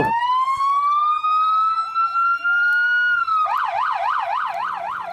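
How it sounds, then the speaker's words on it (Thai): An ambulance from a hospital speeds along Rama IV Road with its siren going. A rising wail sweeps upward, then switches to a rapid, warbling yelp, loud and close throughout. "รถพยาบาลของโรงพยาบาลกรุงไทยวิ่งควบมาบนถนนพระรามสี"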